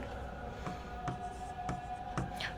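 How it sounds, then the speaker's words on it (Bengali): Chalk or marker writing on a board during a live class, a few short, sharp strokes spaced roughly half a second apart, faint against a steady background hum. "এইখানে আমি লিখলাম সত্যবিধান"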